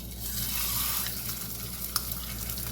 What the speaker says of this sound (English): Love the sizzle sound.